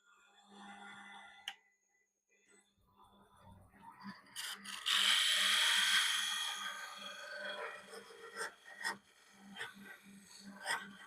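A sander grinds against dyed wood in irregular bursts, rising to a louder sustained stretch midway, with scattered knocks and handling noises, fairly quiet and close; no voices.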